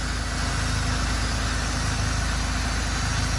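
A Ferrari engine, left sitting for four months, idles steadily with a low, even rumble and no change in revs, close and continuous throughout.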